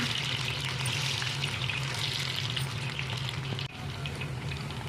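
Bitter gourd pieces frying in hot oil, a steady close bubbling sizzle that dips briefly then carries on, with no talking.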